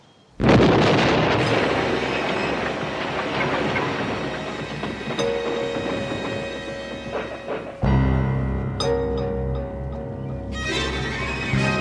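An exploding cake goes off in a sudden loud blast, followed by a long, rumbling roar that keeps going, with a second heavy burst near the end.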